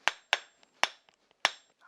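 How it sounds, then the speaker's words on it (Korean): A hammer strikes a metal tool to knock the handle off a single-bevel Japanese sashimi knife, giving four sharp, ringing metallic blows at uneven intervals, close and loud with quiet gaps between them. "이곳을 망치로 쳐서 핸들을 분리하고 있습니다"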